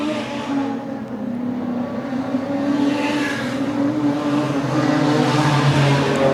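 Race cars roar around a track during a race, engines droning steadily and building in loudness as the pack sweeps past, with no voices over the noise.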